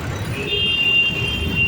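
Road traffic in Ghaziabad, India: a steady broadband hum of vehicles in motion with a sustained high whine partway through, heard continuously at moderate loudness.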